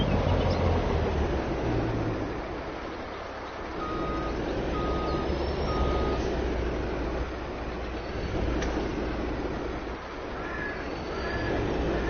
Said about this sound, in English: And let me move this truck.